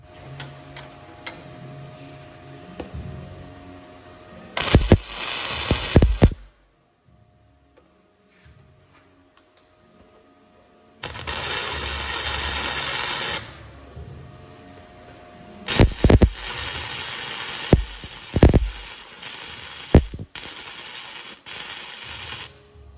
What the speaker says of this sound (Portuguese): Vou fazer uma solda nessa chapinha aqui de 4 mm, tá? Vou soldar ela em T